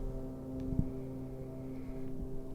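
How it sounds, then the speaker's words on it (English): A steady electronic drone from a modular synthesizer preset, mixed in a 227E module, hums with several sustained tonal layers, faintly shifting, with a few soft clicks over it. "What you're hearing right now is the drone on preset 1."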